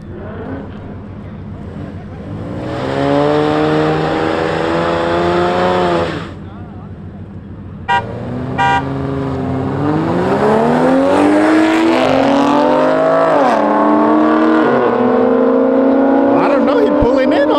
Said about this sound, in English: Then we got a Beamer and the V6 Camaro.